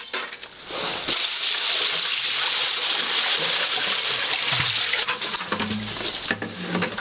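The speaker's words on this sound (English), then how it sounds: "we have 2 5-gallon buckets, and we'll dump them in and see what happens" Two 5-gallon buckets of water dumped into a drainage basin at a log cabin: a loud, sustained splashing pour for several seconds, then trickling and dripping as it tapers off.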